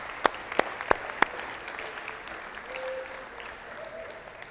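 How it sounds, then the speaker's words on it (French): A church congregation at a French-language sermon breaks into applause, a few sharp claps up front over a soft, spread-out wash of clapping in a reverberant room, with faint voices underneath. "Oui, on peut applaudir."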